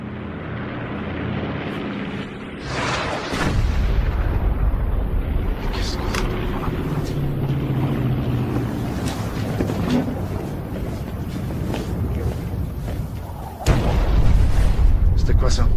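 Heavy, rumbling bomb blasts in a film about the Rwandan genocide, a deep roar that swells loud from a few seconds in and surges again near the end, with low voices underneath.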